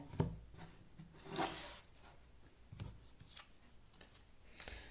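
Tarot cards drawn from a deck one at a time, four cards in all: soft, close papery shuffles and slides in a few separate bursts, quiet and with no talking.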